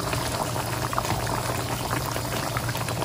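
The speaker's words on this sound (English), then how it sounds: "let it simmer, uncover this time" Sweet and sour sauce with chili simmering uncovered in a pan, a steady close bubbling and boiling wash that runs evenly for the whole stretch with no voices.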